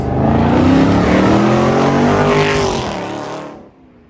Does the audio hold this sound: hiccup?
no